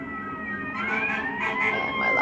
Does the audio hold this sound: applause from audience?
no